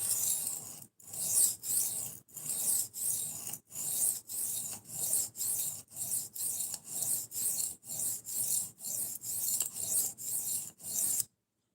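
A knife is sharpened in long, regular rasping strokes, roughly one every half second, with brief gaps between them. The strokes are steady and close, with no talking.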